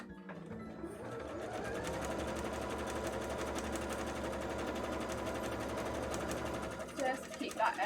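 A sewing machine runs a steady zigzag stitch along the edge of a cosplay petticoat, its needle whirring in a close, even mechanical drone that sputters and slows near the end.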